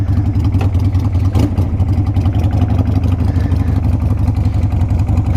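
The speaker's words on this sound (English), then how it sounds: "Fires right up. That was a cold start." Harley-Davidson Sportster motorcycle engine idling after a cold start, a loud, close, steady low rumble with a rapid loping pulse and light mechanical clatter, running continuously without voices.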